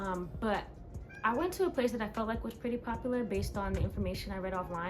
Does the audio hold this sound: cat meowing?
yes